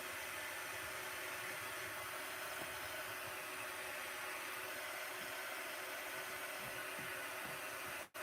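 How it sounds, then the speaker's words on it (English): A hair dryer blowing loose strings off Hobby Lobby pumpkin decor, a faint, steady airy whir running unbroken for several seconds before cutting off abruptly at the end. "The dryer works, I've heard, to get all the strings off."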